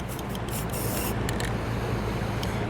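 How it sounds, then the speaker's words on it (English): A steady hiss of Rust-Oleum spray paint from an aerosol can onto bare metal runs continuously, with faint clicks and scrapes over the top. "take some Rust-Oleum paint, spray the bare metal."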